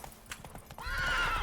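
Horse hooves clip-clop in The Witcher 3: Wild Hunt, a few close hoofbeats followed by a loud, drawn-out neigh from the horse. No one speaks.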